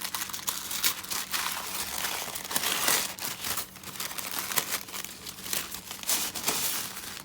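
Black tissue paper crinkles and rustles close up while an oracle card deck is unwrapped, with quick crisp bursts and continuous crackling throughout.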